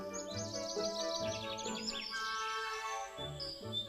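A small bird chirps in a forest, quick trilled tweets and rising whistles repeating close by over a quiet background.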